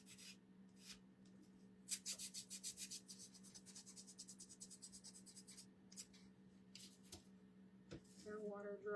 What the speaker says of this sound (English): This is a little bit of the time-consuming part, the sanding part.